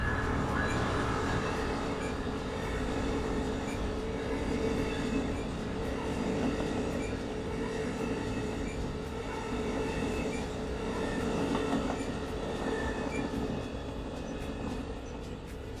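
An Amtrak long-distance passenger train runs steadily, its loud, continuous rumble and rail noise filling the whole stretch without pause, heard from on board or close by.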